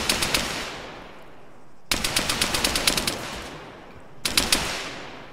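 Gunfire in the video game ArmA 3: three loud bursts of rapid automatic fire, each a quick string of sharp shots fading into a long echoing tail, with no voices.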